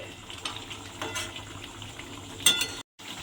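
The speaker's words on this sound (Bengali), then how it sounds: "দিয়ে এবারে এটাকে একটু এইভাবে রান্না হতে দিতে হবে" Ridge gourd with shrimp cooking in a pan, a soft steady sizzle with a few light stirring clinks and scrapes, then a brief cut to silence near the end.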